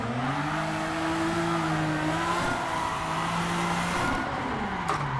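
Toyota Supra drifting in the racing game Assetto Corsa, its engine holding a steady high-revving drone with pitch that rises and dips through the slide, tire squeal mixed in, continuous and loud with no talking.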